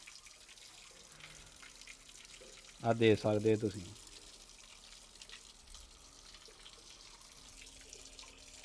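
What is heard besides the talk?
water flowing from a 12 V DC pump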